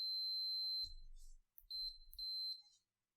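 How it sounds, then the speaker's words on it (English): A digital multimeter's continuity tester gives two sustained high-pitched beeps, each close and steady. Soft low thumps sound as the probes make contact. "When the circuit is closed, you should hear the meter emit a distinct beep."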